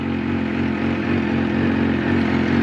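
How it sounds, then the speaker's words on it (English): A Suzuki GSX-R 750 motorcycle engine runs close by, a loud, steady mechanical drone with a buzzing, slightly clattery edge and little change in pitch across the short stretch. "I think I'm gonna give it some revs. Just hear what it sounds like."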